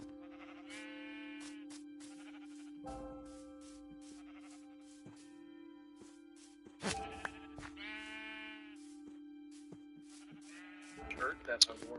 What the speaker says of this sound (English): Okay, some of the sheep have escaped.